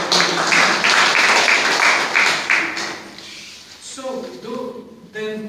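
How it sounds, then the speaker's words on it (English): Applause for a speaker at an event, a dense wash of clapping from a crowd that swells in the first three seconds and then thins out as a voice starts talking over the fading claps. "So a big round of applause for you to do that."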